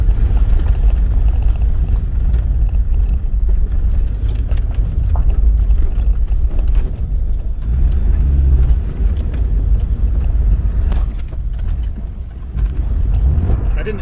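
A car with a K-series engine being driven, a loud rumbling low drone with rough road and cabin noise running steadily throughout, swelling slightly near the end.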